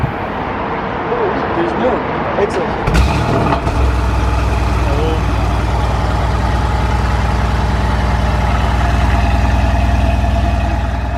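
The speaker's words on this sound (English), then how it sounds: "Let's see if it's cold start." A car with gold accents cranks over from cold and catches, then settles into a loud, steady idle close by. Someone speaks briefly over the start.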